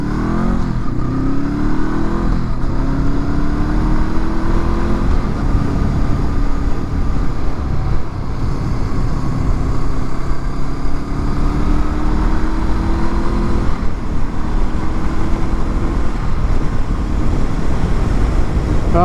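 A 2023 Honda SCL500 Scrambler motorcycle pulls away from a stop, its engine revving loud and close through several rising gear pulls, each climb in pitch dropping at a shift, with wind rush underneath.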